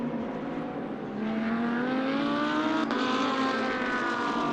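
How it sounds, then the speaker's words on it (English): A Lamborghini GT2 race car moving down the pit lane at Paul Ricard, a steady engine note that rises slowly in pitch and grows a little louder, with a broad background hum. "So down the pit road comes then the Lamborghini."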